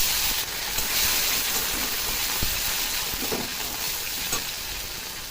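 Whole cumin, two dried red chillies and chopped tomato sizzle in hot oil in a pan, a steady close, loud frying hiss with occasional sharper crackles throughout.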